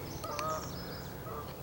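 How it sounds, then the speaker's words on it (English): Geese honking as they fly over a Lake Michigan beach, a few faint calls carried at a distance over steady outdoor ambience. "geese are flying by. You might have heard that."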